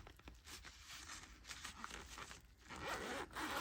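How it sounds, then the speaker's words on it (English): A tiny zipper rasps open in short, quiet scratchy pulls, close up, with faint rustling of cloth. "So really teeny tiny zipper"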